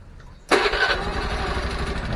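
A Honda Vario 110 scooter's engine catches abruptly after a short quiet moment, then settles into a steady, loud close-up idle with a rough mid-range hum.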